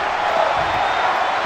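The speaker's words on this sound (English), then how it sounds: "Crowd trying to cheer for Evans here." Crowd cheering at a wrestling match, heard as a steady, dense roar of many voices that holds at an even level from start to finish.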